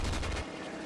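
Aircraft guns firing during a video game dogfight, a rapid burst of dense, harsh gunfire that cuts off partway through, leaving engine drone and rumble.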